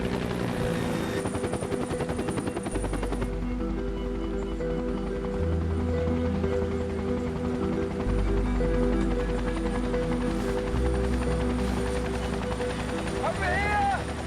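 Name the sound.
helicopter flying overhead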